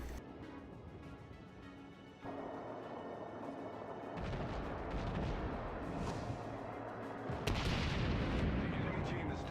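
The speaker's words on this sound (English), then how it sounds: "Firing a spread of torpedoes at the enemy destroyer while also firing his deck guns, the lieutenant continues to pummel the enemy." A Clemson-class destroyer in the World of Warships video game fires its deck guns and launches torpedoes in battle, heard as heavy booming gunfire and deep rumbling blasts building in loudness over a continuous roar of engine and sea noise.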